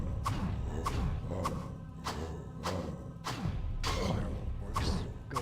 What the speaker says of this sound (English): Fireworks going off outside the window.